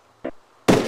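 A gun fires twice during a mock battle among hay bales, a short sharp crack followed a moment later by a louder, longer blast close to the microphone.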